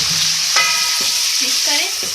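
Small bite-sized chicken pieces frying in a hot pan for a hot and sour chicken noodle dish, giving a steady close sizzle with a few sharp scrapes and clinks of a stirring spoon.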